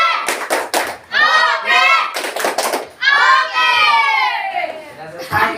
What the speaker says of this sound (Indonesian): Kasih tepuk oke.